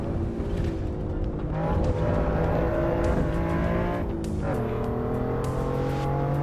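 A car in the racing game Assetto Corsa Evo drives steadily, its engine droning and rising and falling with gear changes and a faint tire squeal, held at a constant moderate level throughout with no talking.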